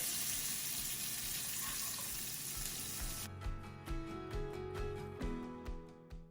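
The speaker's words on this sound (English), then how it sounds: "we want to sear the salmon skin side up for about 3 to 4 minutes" Salmon sears skin side up in a pan with avocado oil and butter, a steady close sizzle at first that thins out, followed by a few soft clanks and taps of cookware.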